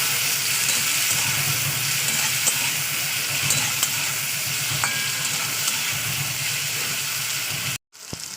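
Tomatoes fry in hot oil in a pan, giving a steady close sizzle with rhythmic stirring scrapes and a few light utensil clicks, and it cuts out briefly near the end.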